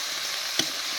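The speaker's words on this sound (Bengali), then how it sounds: "মূলোটা দিয়ে রান্না করছি" Radish fries in a pan with a steady, fairly loud sizzle and a single brief clack partway through, no voices.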